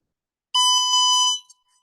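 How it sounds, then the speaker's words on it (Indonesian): An electronic buzzer sounds one steady, shrill tone for just under a second, loud and close, then cuts off with a brief chirp. "buzzer juga akan menyala sebagai alarm peringatan"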